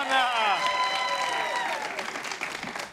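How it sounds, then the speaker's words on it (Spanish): A studio audience bursts into applause on a late-night comedy show, a dense wash of clapping that fades over a few seconds while a host talks over it. "¡Aplausos!"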